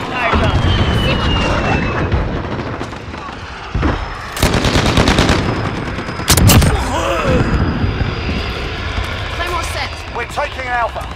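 Rapid machine-gun bursts and heavy gunshots in a military video game, close and loud, with booming impacts, under steady radio chatter from soldiers.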